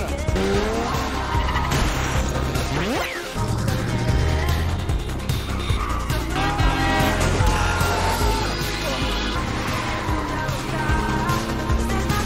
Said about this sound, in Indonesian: Kejar-kejaran mobil jadul pun terjadi